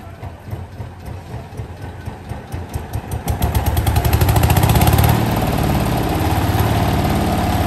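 Engine driving a FINIC palm fruit digester starting up, a chugging low beat that quickens and builds over the first few seconds, then settles into a loud steady running drone, close by.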